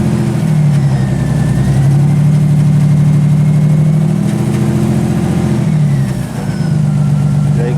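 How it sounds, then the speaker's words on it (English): A Nissan 300ZX with an exhaust leak idles loud and close with a steady droning rumble, rising briefly in small revs, while the whine of its power steering pump runs beneath. "Yeah, you can hear the power steering pump."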